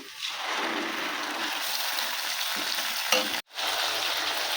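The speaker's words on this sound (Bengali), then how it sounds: "ভালো করে মশলাটা কষিয়ে নেব" Ground spice paste with cumin, chopped onion and bay leaf fries in a pan, a steady close sizzle with soft scraping from stirring, briefly cut off near the end before resuming.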